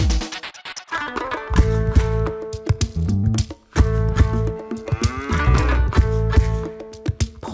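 Cattle on a Kenyan dairy farm moo loudly and repeatedly, long drawn-out calls that overlap one another close by, with only a brief pause between bursts.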